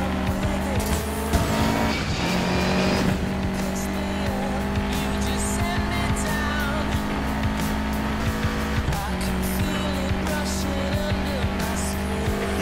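Race cars roar and squeal their tires during a street race in Need for Speed Payback, with loud, continuous engine noise and revving throughout and occasional skids.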